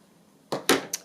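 Scissors trimming the frayed fabric edge of a handmade accordion journal, three short crisp snips close by after a quiet start, the middle cut loudest.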